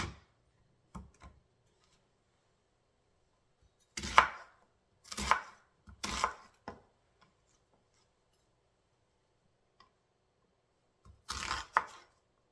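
An onion is chopped with a knife on a board in short bursts of sharp, close taps, a few isolated strokes then quick clusters of several cuts separated by near silence, no talking.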